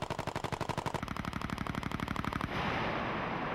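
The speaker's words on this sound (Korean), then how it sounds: "사격 개시 명령이 떨어지고 그녀가 방아쇠를 당긴다." A Cobra attack helicopter's gun fires a rapid rhythmic burst of closely spaced shots at a target, loud and mechanical, then cuts into a rougher sustained roar as the burst ends.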